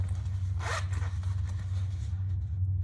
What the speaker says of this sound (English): So now we have a finished zipper pocket.